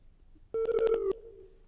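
A single short telephone tone sounds for an incoming call on a live TV phone-in farming show, a clear ringing beep lasting about half a second against a quiet studio background.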